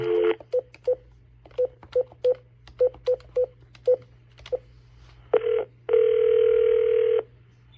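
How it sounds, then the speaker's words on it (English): Analog phone line from a modem giving a steady low dial tone, then a quick run of about a dozen short DTMF dialing beeps, a brief pause, and two longer tones ending in a sustained one. "So now I have dial tone, and that's coming from the modem"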